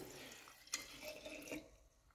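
Chlorinated tap water poured into a small cup during a radiator water corrosion test, heard as a soft splash and trickle with a couple of sharper drips, close by and fairly quiet.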